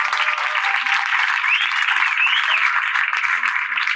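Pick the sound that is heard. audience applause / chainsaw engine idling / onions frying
audience applause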